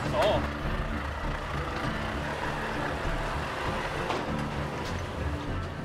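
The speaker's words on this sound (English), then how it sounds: "there's another truck now" A large truck rumbles past with a low engine drone and road noise, steady and moderately near, with faint background sounds.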